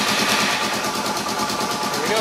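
A Suzuki DR650 motorcycle fitted with a Lectron carburetor idles close by, its steady, slightly uneven engine putter running throughout, with a faint rising whine near the end.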